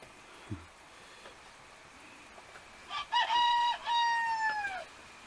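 A rooster crows once, loud and close, with a long drawn-out call following a brief quiet stretch with a faint low knock.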